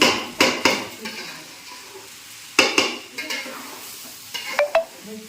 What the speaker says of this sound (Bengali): চালটা যত সুন্দরভাবে ভাজা যাবে তত